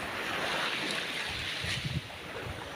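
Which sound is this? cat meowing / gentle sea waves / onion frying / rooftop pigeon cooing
gentle sea waves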